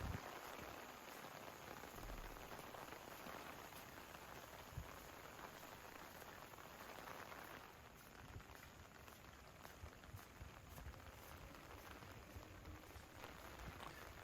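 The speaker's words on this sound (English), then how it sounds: "It's been raining all the time we've been filming." Steady rain falls on a golf course at Keperra Country Golf Club, a dense, even hiss of drops pattering on grass and surfaces, continuous and moderately loud with no voices.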